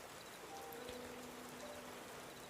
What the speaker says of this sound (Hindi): बाहर अभी भी ज़ोरों की बारिश हो रही थी